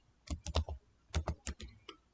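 Typing a command line on a computer keyboard, a short run of crisp close keystrokes in two uneven bursts with a brief pause between, no voice.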